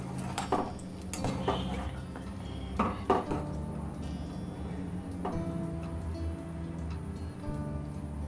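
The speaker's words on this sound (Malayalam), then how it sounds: "ഇനി നമുക്കിതൊന്ന് തുറന്ന് ഇളക്കി നോക്കാം" A pot of fenugreek rice porridge is opened and stirred, with a few metallic clinks of lid and spoon against the pot over a low, steady simmer.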